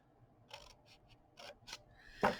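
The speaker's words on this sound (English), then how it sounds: "So we're going to cut across to the point where the 4 pieces come together, and then we'll cut down." Scissors snipping paper from a 12x12 pad while cutting an envelope flap, a few quiet crisp snips spaced out, ending in one louder, sharper cut.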